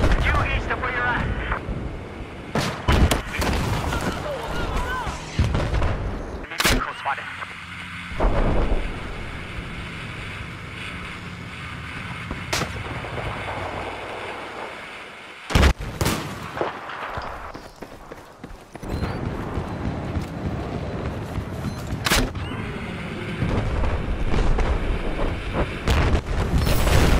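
Loud Battlefield 4 combat with repeated gunfire bursts and heavy explosion blasts, broadband and near, layered over wind and vehicle rumble.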